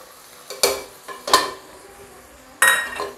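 Garam masala and veg biryani masala being stirred into vegetables in a cooking pot, with three sharp metallic spoon clinks against the pot over a soft background hiss.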